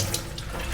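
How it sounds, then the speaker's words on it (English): Running water flows steadily from a tap as hands are washed with foam, a brief close hissing stream with no voices. "Then I wash my hand with foam."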